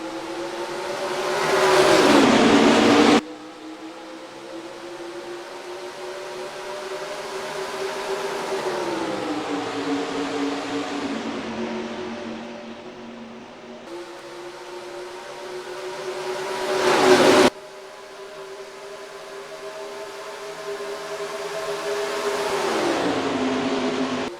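Race car engines roar around Texas Motor Speedway in the NR2003 racing game, with a steady loud drone that rises and falls as cars pass, plus two sharp, loud close-by passes.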